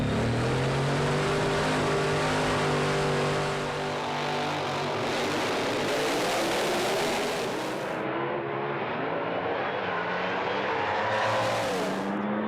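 A drag racing car roars down the strip at an ANDRA event in Perth, its engine blaring loud and rising in pitch through the run before cutting off, then flaring briefly again near the end.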